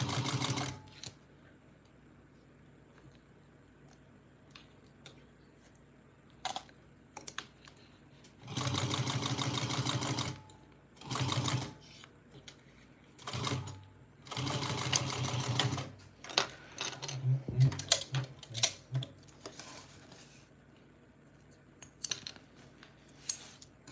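A sewing machine stitches a small Araki box bag in several loud, separate bursts of rapid whirring, with pauses and scattered handling clicks between them.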